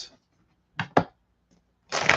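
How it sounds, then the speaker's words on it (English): A deck of oracle cards is shuffled in a few short, crisp riffles and flicks, with gaps between them, then a louder burst of riffling at the end. "These are shuffling so well tonight."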